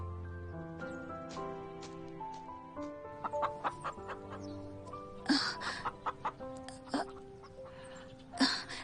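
A rooster clucks in a string of close, distinct calls and short squawks, loud and rhythmic over a sustained musical background with no talk.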